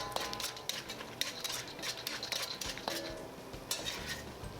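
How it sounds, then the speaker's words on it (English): Peanuts stir-fried in oil in a wok for kung pao chicken, giving a steady bright sizzle with scattered clinks and scrapes of a utensil against the pan throughout. "we're gonna add in the peanut. Stir fry until lightly brown for about 5 minutes"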